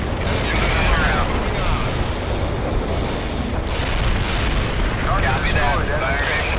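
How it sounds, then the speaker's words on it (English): Artillery strike explosions in the World in Conflict video game, a dense, continuous barrage of booms and gunfire rumbling loudly throughout with no break, while voices talk faintly over it. "Artillery strike was on the mark"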